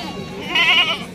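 A Barbari breed goat gives a brief, close bleat over steady background noise at a goat market ahead of Bakra Eid.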